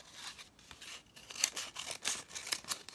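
Scissors snip through paper around the ear of a paper sculpture face, making a few quiet, close, crisp cuts in a short irregular series.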